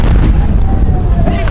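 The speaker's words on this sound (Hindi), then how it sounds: "कुछ ही सेकंड बाद दोस्तों एक बहुत बड़ा धमाका होता है।" A huge bomb blast near the Red Fort metro station gate in Delhi, a loud, dense booming roar that fills the whole moment without a break, harsh and close.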